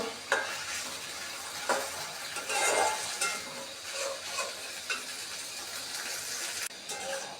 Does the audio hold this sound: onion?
yes